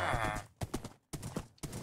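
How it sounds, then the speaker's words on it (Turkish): Horse hooves clip-clop through a Minecraft game world, a brief voice at the start followed by a few uneven clusters of hoof steps, fairly close and moderately loud. "Aranızda hızlı bir at hanginiz hızlıdır acaba?"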